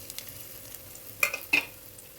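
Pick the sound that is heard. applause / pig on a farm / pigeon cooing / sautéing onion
sautéing onion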